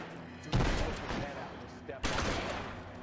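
Gunshots ring out in L.A. Noire, with two sharp loud blasts about a second and a half apart, each followed by a decaying rumble.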